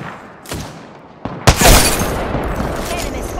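Gunfire in a video game: a couple of sharp shots, then a loud burst into sustained rapid firing that carries on to the end.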